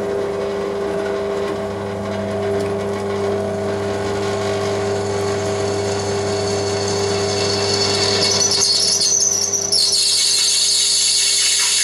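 A power drill bores through steel for a new potato digger blade, a steady close whine with a sharper squeal rising near the end over a constant motor hum.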